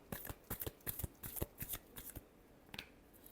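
Tarot cards are shuffled close up in a rapid series of crisp riffling flicks and slaps, about a dozen quick bursts, quiet and alone.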